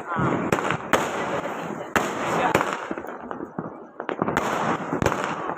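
Diwali fireworks from a 30-shot multi-shot cracker, sharp bangs bursting in an irregular rapid series with crackling between them, loud and close, with people talking in the background.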